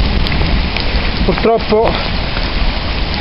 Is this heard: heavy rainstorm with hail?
yes